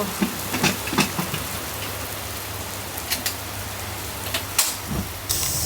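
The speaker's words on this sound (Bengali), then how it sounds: "বৃষ্টি আরও জোরে আসলো" Steady rain hisses continuously, with scattered sharper drops and taps standing out at irregular moments, nearby and fairly loud.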